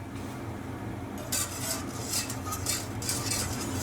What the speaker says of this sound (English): all we're going to do is just whisk that through